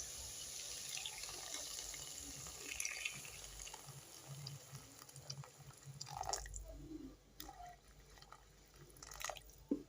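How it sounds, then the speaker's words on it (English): Hot water pours into a pot of rice and cardamom in a home kitchen, a steady running splash with some drips and clinks, fairly close but soft, easing off in the last few seconds. "you can now add water. Make sure your water is hot."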